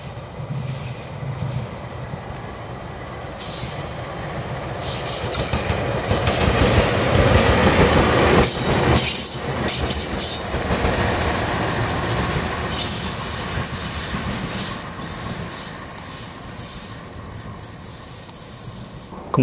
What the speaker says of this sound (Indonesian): 1 lokomotif dikirim terlebih dahulu